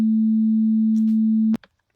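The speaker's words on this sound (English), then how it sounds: "the sine wave has no overtones, considered a pure sound" A pure synthesizer sine wave with no overtones holds one steady, loud pitch for about a second and a half, then cuts off abruptly, leaving near silence with a few faint clicks.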